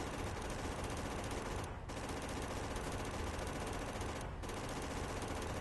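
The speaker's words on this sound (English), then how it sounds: "Just keep shooting things." Sustained rapid automatic gunfire from turrets or weapons in the factory-building game Factorio, a dense continuous rattle of shots running throughout at steady loudness, with two brief dips, and no talking.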